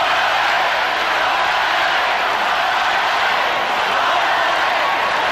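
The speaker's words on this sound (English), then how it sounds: "Tough crowd, they're chanting, "Go LA."" Basketball arena crowd at a Bulls at Pistons playoff game, Eastern Conference Finals 1991 Game 4, chanting in a steady, broad roar that stays dense and even throughout, distant and washed together.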